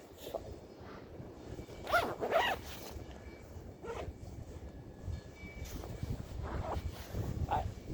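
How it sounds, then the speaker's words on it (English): A jacket zipper is pulled up outdoors in a few quick rasping strokes, close and fairly loud over a low background rumble, with no talking. "I'm gonna put on my gloves and zip up my jacket"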